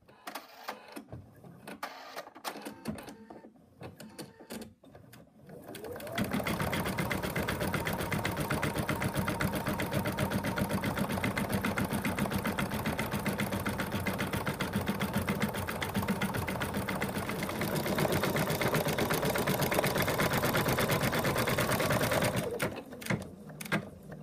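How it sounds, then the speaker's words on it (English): An embroidery machine stitching a body-shaped outline on a teddy bear piece runs for a long stretch with a rapid, rhythmic mechanical chatter after some quieter handling sounds, steady and close before stopping. "I'm just going to put it back in the machine, and it's going to do an outline of the body shape"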